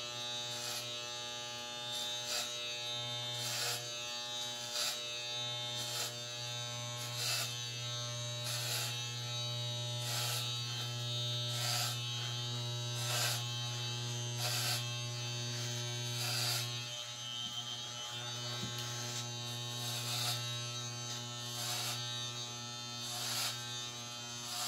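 Electric hair clippers cut a man's hair at home, giving a steady, close, high-pitched buzzing drone that runs almost continuously with slight wavers in tone.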